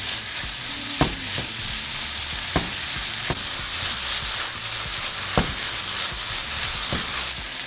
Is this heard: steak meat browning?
yes